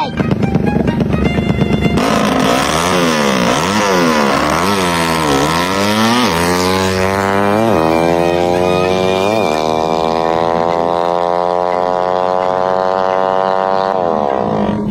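A motorcycle engine revs hard and loud in second gear, rising and falling through several quick throttle blips before holding a long climbing pull, close by with a brief voice early on.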